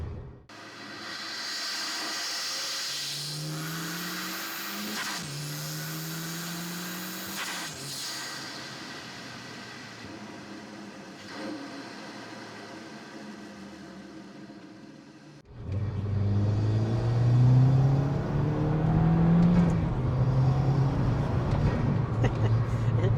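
A tuned VW Golf GTI Edition 30 Mk5 turbocharged engine revs and pulls hard, a rising turbo whistle and hiss climbing over steady road rumble, then a louder, rougher surge of acceleration near the end.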